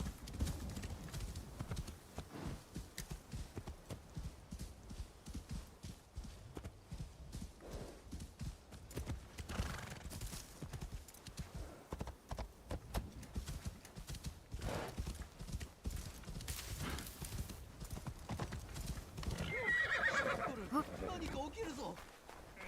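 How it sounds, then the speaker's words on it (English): Horse in the video game Assassin's Creed Shadows, hooves clip-clopping in a steady running rhythm with an occasional neigh, moderately close under game music and a voice. "I keep hitting the directional to call my horse"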